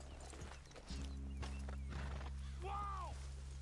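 Horses in the video game Red Dead Redemption 2 clop along as riders dismount, with a clear whinny rising near the end over a steady low background hum.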